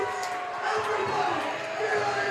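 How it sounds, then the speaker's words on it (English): A baseball stadium crowd during a game makes a steady, mid-distance roar of cheering and chatter, with a voice talking over it. "This crowd is now fully into it."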